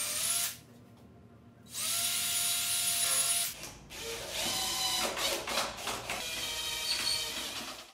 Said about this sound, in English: I'm gonna come from the back face now, and we're gonna go into the shelf.